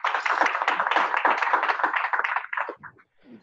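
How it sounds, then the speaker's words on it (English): A short burst of audience clapping at a Drupal meetup held at MongoDB headquarters in New York, steady and fairly close for about two and a half seconds, then thinning into a few scattered claps before fading. "Let's give a round of applause for Kermit."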